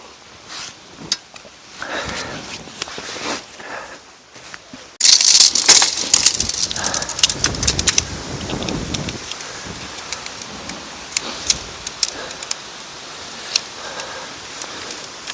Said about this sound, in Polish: wiatr nie odpuszcza. Wieje okropnie.